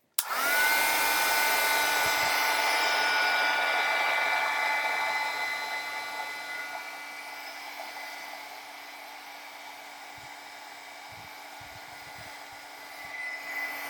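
A heat tool blows hot air to dry a shabby chic craft card, starting with a sharp click and a loud steady whine that softens partway through and then holds at a constant hum.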